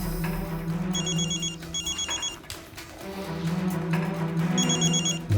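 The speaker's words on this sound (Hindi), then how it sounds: "मम्मी का फोन।" A telephone rings in two trilling bursts, a pause between them, over a low rumbling background.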